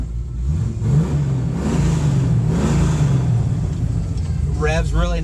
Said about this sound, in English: Revs really nice and free.